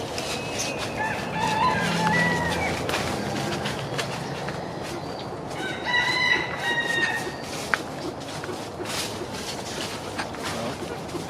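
Newly arrived pair of farm birds on a bayou bird farm, giving scattered chirps and clucking calls amid steady outdoor background noise, with a voice speaking briefly.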